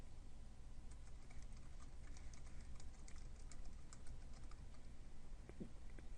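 An email address is typed on a computer keyboard as a quick, faint patter of key clicks that runs steadily for about six seconds, with no talking.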